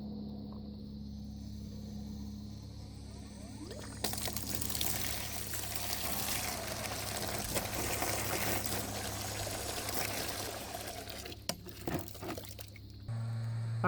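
An outdoor water hydrant gushes after being repaired, starting abruptly and flowing in a loud, steady rush for about ten seconds, then cutting off, with a low hum underneath throughout.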